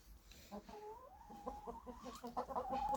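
Chickens cluck softly and repeatedly close by, with a drawn-out, rising call in the middle and quicker clucks toward the end.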